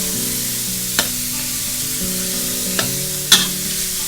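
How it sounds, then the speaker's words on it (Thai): Shrimp stir-frying in a pan for a spicy bird's-eye chili stir-fry, a low steady sizzle with a constant hum, broken by three sharp spatula clicks against the pan, with no voices. "กุ้งเนี่ยเราจะใช้เวลาผัดไม่นานนะคะ เพราะว่าแป๊บเดียวเขาก็จะสุกแล้ว"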